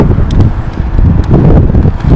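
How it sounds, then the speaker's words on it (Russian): Wind buffets a microphone with low rumbling gusts, rough and close, in short uneven bursts. "ветер сегодня за пруды дует туда"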